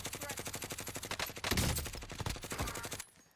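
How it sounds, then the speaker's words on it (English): Rapid gunfire in Call of Duty Warzone, a fast regular train of sharp shots with a louder burst midway, fairly faint and cutting off abruptly near the end. "And here we are getting sniped at now"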